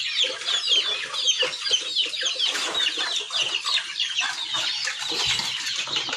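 Backyard chickens clucking at feeding time on a farm: a dense, lively chorus of overlapping clucks and squawks from several birds, close and continuous, with occasional wing flaps and no voices.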